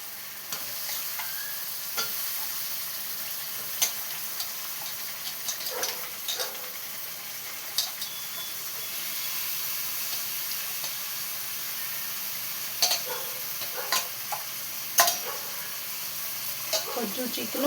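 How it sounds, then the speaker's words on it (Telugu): Chicken pieces sizzling steadily in hot oil in a pan, a continuous hiss with scattered sharper pops and stirring clicks throughout, close and fairly quiet. "ఇప్పుడు చికెన్ వేస్తున్నాను"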